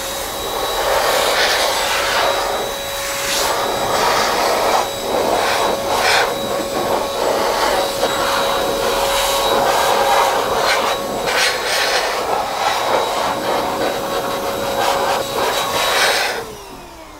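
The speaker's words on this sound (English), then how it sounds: "The Pro Blow is a blower. It has a 10-foot long cord, and all you do is just blow away." A Chemical Guys Pro Blow corded blower dries a car wheel with a loud, steady whining roar. Air rushes in repeated bursts as it sweeps across the wheel, and it cuts off near the end.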